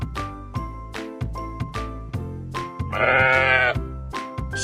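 A single sheep gives one drawn-out, quavering bleat midway, loud and close, while rhythmic children's music with chiming tones plays throughout.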